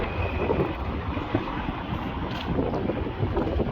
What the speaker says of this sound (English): there's a little bit of wind